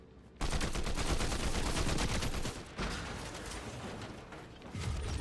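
Gunfire in the video game Fortnite, dense rapid automatic bursts, loud and continuous with a short pause midway, heard without talking.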